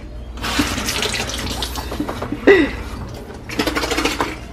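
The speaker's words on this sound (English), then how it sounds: "So we wash out the ketchup buckle now." Running tap water rinses out a ketchup bucket in a kitchen, a splashing, gurgling stream with a sharp knock of the plastic bucket midway and the flow briefly easing before resuming.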